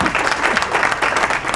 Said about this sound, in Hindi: तालियां हो जाएंगी।